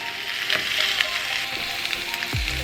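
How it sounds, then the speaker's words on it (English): Oxtails searing in a hot pan, a loud, steady sizzle and crackle throughout with a few sharper pops and a brief scrape near the end. "when it sears down enough, when it gets a nice brown"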